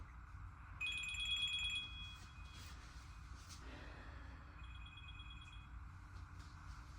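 A phone rings twice in a workshop during surfboard painting, with bright electronic trilling bursts, one near the start and another a few seconds later, over a steady low background hum and no speech.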